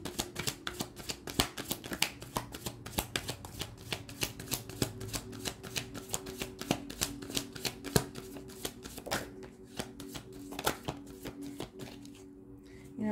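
Tarot cards shuffled by hand in a steady run of crisp, rapid riffling taps, close and fairly quiet, with no talking.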